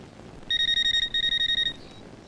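A telephone rings with an electronic warble, two bursts of rapid pulsing tone in quick succession, loud and close, with no voices over it.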